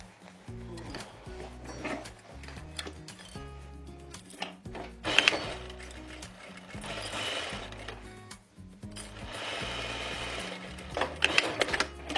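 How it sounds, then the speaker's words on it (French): A sewing machine stitches closed the lining of a fabric gift bag, producing bursts of mechanical whirring and clattering that start and stop across the stretch. "Je rabats les marges à l'intérieur et je vais le fermer à la machine."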